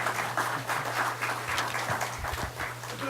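An audience at a county farm bureau forum for utility district candidates claps steadily, a dense patter of applause under a low steady hum, with a few faint voices near the end.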